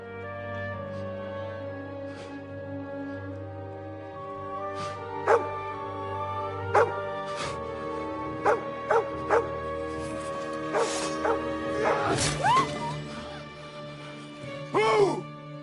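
A dog in the Kingdom Come: Deliverance II video game barks sharply a few times and whimpers between them, close, over a low game ambience with a faint voice in the background.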